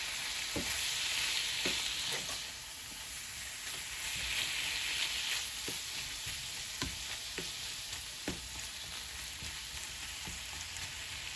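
Ground beef frying in a pan over medium heat, a continuous bright sizzle with periodic scraping clicks from stirring, close and steady throughout.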